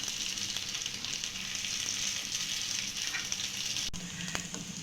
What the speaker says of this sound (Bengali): তো কেকটা আমার এক সাইড ভাজা হয়ে গিয়েছে, অন্য সাইডটা উল্টে দেবো